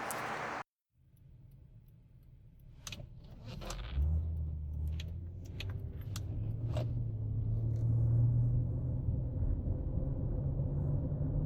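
A 3rd-generation Honda Odyssey minivan after a transmission filter, flush and pressure switch fix: a door thud and key jangle, then a low engine rumble that builds steadily as the van pulls away and drives.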